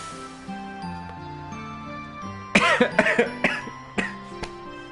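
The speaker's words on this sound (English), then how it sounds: "Maybe reading wasn't the best choice for such a coughing fit that I have right now." A person in a harsh coughing fit, a cluster of loud, ragged coughs bunched together after a quiet stretch, then a couple more single coughs, heard over soft sustained background music.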